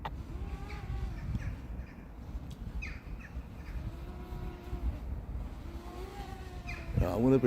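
Crows caw and squawk in a series of harsh calls over a quiet village, with a louder burst of cawing at the end.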